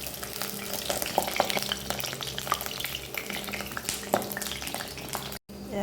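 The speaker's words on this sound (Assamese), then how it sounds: "পিচকৈ ফ্ৰাই কৰিছোঁ।" Red amaranth fries in a pan with a steady crackling sizzle, broken by scattered clicks and scraping stirs; faint talk drifts in the background.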